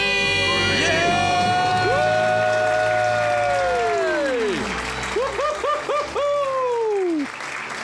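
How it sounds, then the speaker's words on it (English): A loud studio audience cheers, screams and whoops at length, with sustained rising and falling shouts that break into pulsing cries near the end, alone without speech. "Let's hear a debt-free scream."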